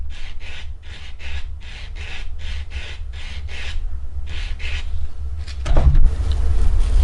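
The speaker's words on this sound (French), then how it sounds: "je prends soit un bloc blanc, soit une lime à grain fin et je viens dépolir tout simplement cette zone" A fine-grit file or white buffer block scrapes across a broken natural fingernail in a quick series of about a dozen close, soft rasping strokes in a steady rhythm, followed by a brief louder handling noise.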